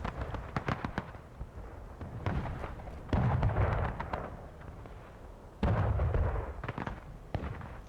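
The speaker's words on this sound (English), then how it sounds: "Another short round there for Wisconsin's center gun." Artillery cannon fire from the center gun of the Wisconsin battery in a war game: sharp booming blasts, a few rapid shots and two heavy rumbling reports, with quieter crackle between.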